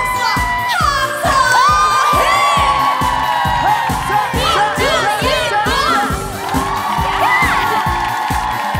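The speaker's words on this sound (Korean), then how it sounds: "박수와 함성" A studio audience at a Korean trot music show cheers and shouts loudly, with steady rhythmic clapping under a continuous wash of excited crowd voices throughout.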